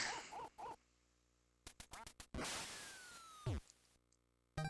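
Ducks quack in a duck-shooting video game, a few short nasal quacks at the start followed by whooshing swishes, a sharp bang and a falling whistle, fairly quiet overall.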